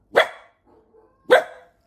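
Two sharp, loud barks from a Samoyed puppy about a second apart, close to the microphone, with faint small whimpers in the quiet between them.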